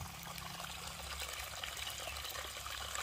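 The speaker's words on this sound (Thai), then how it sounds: "มีน้ำตกนะฮะ" A small waterfall in a forest stream flows with a continuous, even rush and trickle, steady and fairly soft throughout with no talking.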